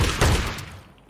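Gunfire in a video game cracks out in a brief, loud burst of overlapping shots that quickly decays into a fading tail, with no talking.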